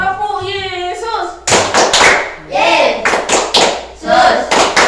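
Children clap out the Tepuk Yesus chant in a classroom, a burst of sharp rhythmic claps mixed with chanting voices after a teacher's sung greeting, loud and close.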